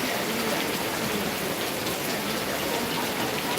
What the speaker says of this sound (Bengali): আজকে সকাল থেকে বৃষ্টি প্রচণ্ড হচ্ছে থামছে আবার বৃষ্টি হচ্ছে